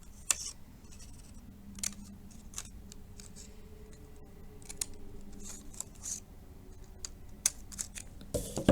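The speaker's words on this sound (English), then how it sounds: "I just usually take the top of my scissors and snip." Scissor tips snip paper along cut lines while making an origami ornament, a series of sharp, close, isolated cuts spaced irregularly against a quiet background.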